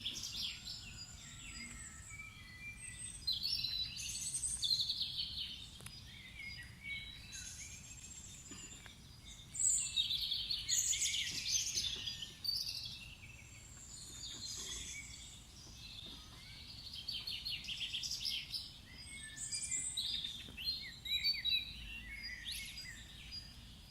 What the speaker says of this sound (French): je vais me taire pour vous laisser écouter le chant des oiseaux pendant que je fais le petit tour